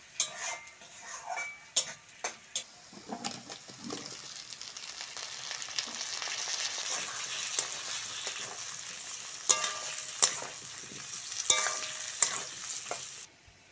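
Chopped onions frying in oil with whole spice tempering for a Bengali fish curry, a steady close sizzle with intermittent sharp scrapes and clinks of a spatula stirring against the pan, building louder toward the end.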